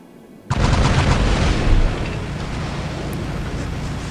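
Side-mounted weapons on the Noricum robot in War Robots fire in one sudden loud burst, then a dense roaring blast rumbles on steadily for several seconds with a lower tail.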